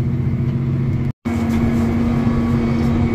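A tractor pulling a bean planter across a field drones steadily and loudly close by, with a constant low engine hum and a brief cut-out partway through.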